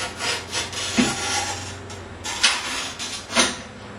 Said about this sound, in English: bring your little carbide blade down and a little bit of pressure